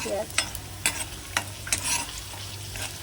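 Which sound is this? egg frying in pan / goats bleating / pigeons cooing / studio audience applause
egg frying in pan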